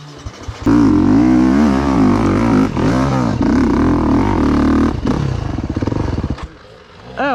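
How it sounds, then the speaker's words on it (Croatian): A 250 cc enduro motorcycle on an extreme enduro course revs hard and close, holding a loud, strained engine note that wavers up and down with the throttle before dropping off near the end. "Gledaj sad kad 250 zaori."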